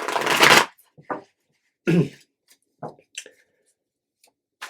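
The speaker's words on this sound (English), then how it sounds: "Let me give it one more shuffle here." Crisp riffling burst of tarot cards being shuffled, followed by a few soft taps and shuffles, close by, with quiet gaps between.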